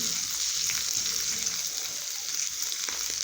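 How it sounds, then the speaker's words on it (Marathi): Green chili paste sizzles in hot peanut oil as a tempering, a steady close crackling fry with faint stirring that holds evenly throughout without any voices. "ठेसा टाकून घेऊ हिरव्या मिरच्याचा हे शेंगदाण्याचं तेल असल्यानं असं दिसत आहे फोडणीमध्ये"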